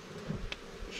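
A honey bee swarm being moved into a hive gives a faint, steady buzzing hum of many insects close by. No voices are heard.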